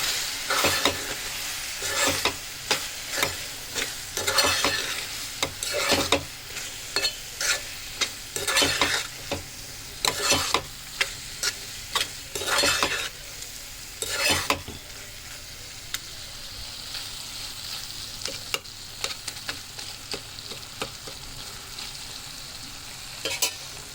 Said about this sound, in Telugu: టమాటాలు అయితే ఉడికిపోయాయి. మొత్తం కలుపుకుందాం.